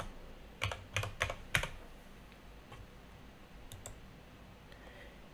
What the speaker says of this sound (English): So go ahead and go on to Google and type in Riplet.